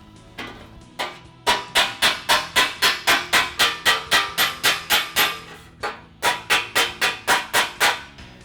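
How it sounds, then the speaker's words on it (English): A hammer strikes metal against a dolly in a rapid, steady string of sharp ringing blows, working a tack-welded joint on a modified grille shell; a brief pause breaks the series before the hammering resumes. "the next step is I'm going to work this joint with a hammer and dolly in preparation for the finish welding"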